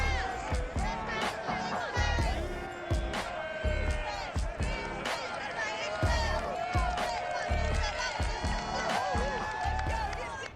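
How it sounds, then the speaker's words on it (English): A stadium crowd roars and cheers steadily for the Houston Texans taking the field against the Carolina Panthers on Thursday night in the football game Madden 22, a dense wall of excited noise with a broadcast sound bed running throughout. "this crowd enthusiastically cheering on their Texans as they emerge from the locker room"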